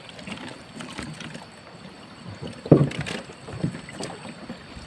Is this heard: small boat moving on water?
yes